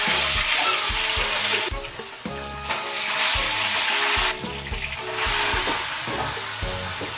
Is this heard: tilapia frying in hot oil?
yes